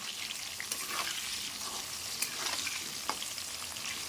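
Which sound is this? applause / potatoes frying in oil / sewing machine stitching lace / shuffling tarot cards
potatoes frying in oil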